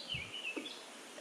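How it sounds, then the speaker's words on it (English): Birds chirp outdoors on a hot day, faint high calls scattered across a quiet background with no talking. "I hope you can hear the birds. They're just chirping away in this wonderful heat."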